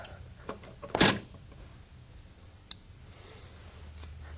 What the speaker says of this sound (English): You'll hear that cushion roller drop.